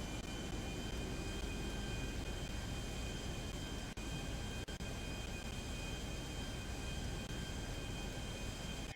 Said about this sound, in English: Not bad for a damaged aircraft, for a crippled aircraft.